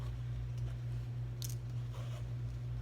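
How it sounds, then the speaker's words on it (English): Scissors snip through a small piece of quilt fabric pinned to a pattern, giving soft, brief cuts over a steady low hum. "I'm gonna have to maneuver around the pins and move those as I cut it out"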